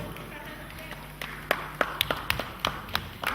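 A handful of sharp, evenly spaced claps from an audience at a Nigerian Independence Day celebration in Bristol, beginning after a quiet moment and continuing in a steady rhythm against faint room noise.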